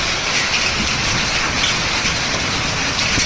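Hailstones pelt down in a dense, steady roar of pattering hits on a car, loud and close, continuing without a break.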